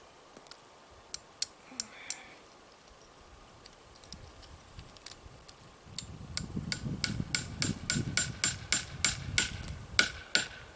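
Sharp hammer strikes on a nail driving an electric fence insulator into a tree: a few spaced taps at first, then a quick, steady run of louder blows, close by.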